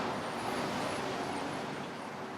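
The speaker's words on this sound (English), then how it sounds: "Oh, the noise of the traffic." Street traffic in Giverny, France, a steady broadband roar of passing vehicles, fairly close and continuous with no voices.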